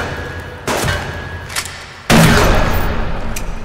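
Pistol fire in the survival game Subsistence: a few loud, separated shots, the last two heavy and booming with echoing tails, ringing out close with no talking.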